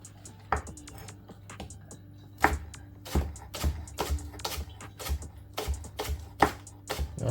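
A knife chops scallions on a cutting board in a home kitchen, a series of irregular close taps and thuds spread over several seconds above a low background hum.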